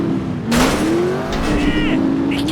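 A car engine in The Saboteur, a 2009 video game, drones steadily with rising revs and brief squeals. Someone talks over it throughout.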